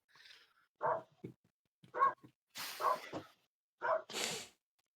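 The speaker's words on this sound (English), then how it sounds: "Who's woofing? The neighbors' dogs." Neighbours' dogs barking in a series of short, separate woofs and yaps at moderate distance, with brief quiet gaps between the bursts and no talk over them.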